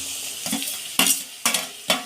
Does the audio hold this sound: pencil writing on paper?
no